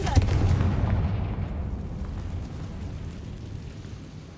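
An explosion from the Confringo fire spell in a Harry Potter video game: one loud, deep blast at the start that rolls off into a long, fading rumble.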